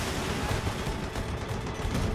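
A warship's guns fire a broadside to port in the naval film Greyhound, a dense, loud barrage of overlapping blasts and rumbling booms that runs unbroken throughout.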